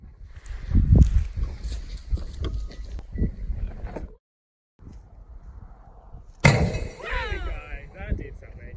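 A 12 gauge shotgun shell goes off inside a running microwave: a sudden loud, sharp burst after a brief quiet stretch, followed by rattling and clattering, with other rough noises beforehand.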